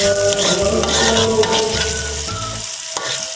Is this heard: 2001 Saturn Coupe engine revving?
no